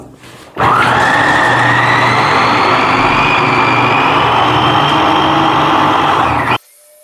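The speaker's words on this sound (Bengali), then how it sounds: "এটার মোটরটা কিন্তু অনেক পাওয়ারফুল আটশো ওয়াটের" An 800 watt Sokani blender motor runs loud and steady as it chops vegetables, starting abruptly, holding a constant high whine with a low rumble for about six seconds, then cutting off.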